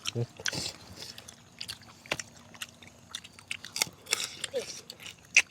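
Close, crisp crunching and chewing of raw crisp vegetables eaten with raw beef and sweet liver in a spicy, bitter chili dip, with irregular bites and smacks and people talking in between.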